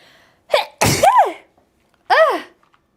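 A loud close sneeze with a quick breath beforehand, followed about a second later by a second, shorter sneeze.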